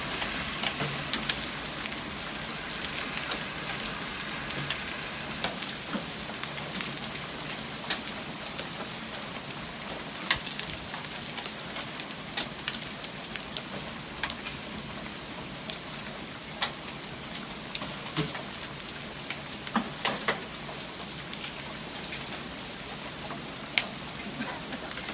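Huge hailstones pelt down steadily during a hailstorm, a dense continuous hiss with scattered sharper impacts cracking through, no voices.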